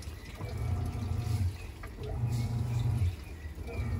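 A washing machine full of water agitates a load of laundry with detergent, its drum churning in slow, rumbling surges over a constant watery swish.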